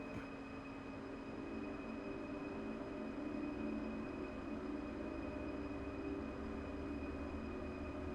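In Train Sim World 5, a train accelerates under power with a steady low rumble, faint electric whine and wheel noise throughout, continuous and fairly quiet, with no talking.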